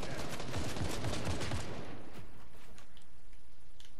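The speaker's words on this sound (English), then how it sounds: "Keep shooting at him." Dense, rapid gunfire from shooting at an enemy in Fortnite fills the clip with continuous loud bursts, then thins to scattered shots toward the end.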